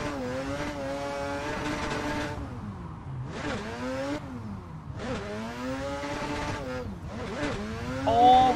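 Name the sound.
rotary-engine drift car revving in fifth gear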